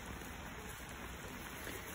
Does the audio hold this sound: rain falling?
yes